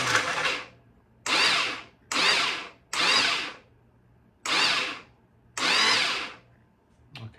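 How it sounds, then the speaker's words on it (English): Starter on a vintage Honda CB450 motorcycle tried repeatedly in neutral: six loud, close whirring bursts of a second or so each, separated by brief silences, with no engine catching and no voices. "Let's hit the key and see if that starter still doesn't want to turn."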